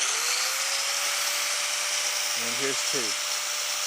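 Power tools run off an Oukitel P2001 portable power station, giving a steady high-pitched electric whine throughout, with a voice speaking briefly over it.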